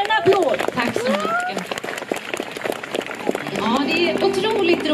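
An audience applauds for a singer at an outdoor sing-along in Lysekil, scattered clapping running beneath a person talking, with cheers and voices mixed in.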